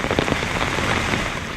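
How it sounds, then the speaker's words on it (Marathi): Heavy monsoon rain pours down in Konkan, a dense, steady hiss of drops hammering surfaces without a break, loud and close with no voices. "आणि पाऊस बऱ्यापैकी पडता,"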